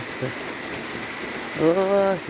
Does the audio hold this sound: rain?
yes